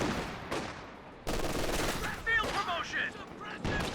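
Automatic weapon fire from machine guns in a Company of Heroes 2 battle, sounding as bursts of rapid shots that come and go over about four seconds, with scattered impacts and some talk mixed in.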